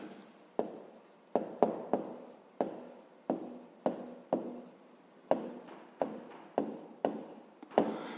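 A pen writing out the answer to a fifth-grade maths exercise, about a dozen short separate strokes and taps in an even rhythm, close and quiet with no talking.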